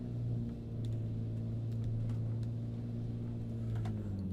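The engine of a Soviet MiG-3 in Microsoft Flight Simulator gives a steady, droning rumble with strong low tones, heard close and continuously, with faint clicks now and then and no talking.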